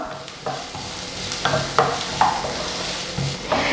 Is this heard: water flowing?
no